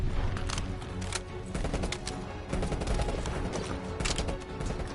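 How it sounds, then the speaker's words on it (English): An anti-aircraft gun in Call of Duty Black Ops Cold War hammers out a dense, continuous stream of loud, close shots with rhythmic pounding and no pauses, with no talking. "that AA gun!"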